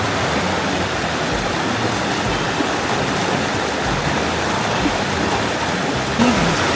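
River water in Leyte rushing steadily, a broad continuous wash of flowing water close by with no break.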